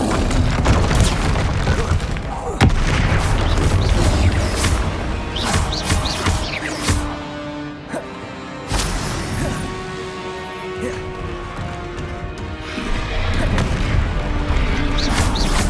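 Bombarda blasting spell explosions in Hogwarts Legacy: heavy booming blasts and crashing debris repeat loudly across the stretch, alongside music and occasional speech.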